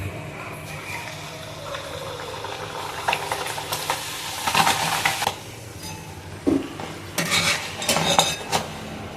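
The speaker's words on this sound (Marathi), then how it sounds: "बाकीच्या पुऱ्या तळून घेऊया." Spinach puris deep-frying in hot oil over a medium flame, a steady crackle running throughout, broken by clinks and scrapes of a metal utensil against the pan that grow louder in bursts near the end.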